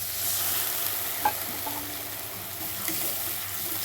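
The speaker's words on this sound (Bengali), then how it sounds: "আদা রসুন পেস্ট দিয়ে নাড়ানো হচ্ছে" Fried onions with ginger garlic paste are stirred in a pan, a soft steady sizzle with a few scraping clinks of the spoon, fairly quiet and close.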